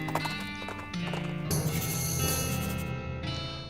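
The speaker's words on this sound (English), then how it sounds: "Yeah, that horse." A horse in the Western video game West of Loathing trots with steady clip-clopping hooves, joined by a brief whinny, all loud and close over a busy game soundtrack.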